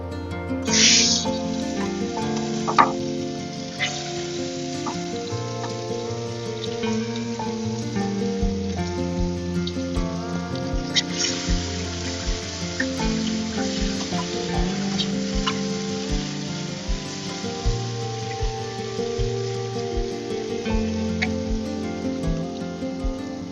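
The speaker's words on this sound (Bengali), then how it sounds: "এবার এর মধ্যে চিংড়ি মাছগুলো দিয়ে ভেজে নেব।" Prawns frying in hot mustard oil in a kadai, a steady sizzle running throughout under background music with a few louder spits and crackles.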